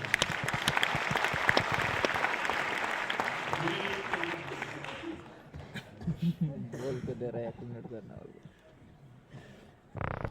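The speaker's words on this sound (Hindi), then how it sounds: "जोरदार तालियां राजेश कुमार मोदी जी के लिए" Audience applause at a business seminar, a crowd clapping loudly for several seconds before fading out, then someone speaking over the quieting room.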